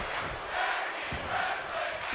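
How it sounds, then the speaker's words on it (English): In the WWE 2K24 wrestling game, an arena crowd chants at a tag team match, a faint, distant swell of voices that rises and falls in a repeating rhythm. "You can hear the crowd in attendance chanting tag team wrestling."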